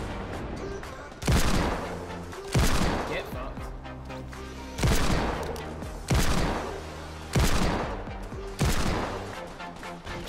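Hand cannon gunfire in Fortnite 50 vs 50: six heavy, booming single shots ring out at roughly even intervals of about a second and a half, loud and close over game sounds and faint voices.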